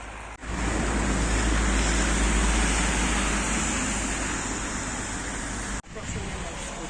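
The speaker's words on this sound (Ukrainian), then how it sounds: "Вон, бачите, їде і чистить сніжок." Snow-clearing vehicle drives along a snowy street in the centre of Yaremche, its broad, steady engine and scraping rumble filling the scene, with two brief drops in sound where the noise cuts out.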